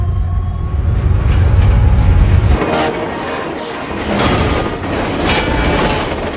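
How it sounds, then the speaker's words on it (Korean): A train rumbles heavily along the track, a deep low roar that drops off partway through, followed by lighter rattling and metallic clatter. "그렇게 코너에 진입하는 열차"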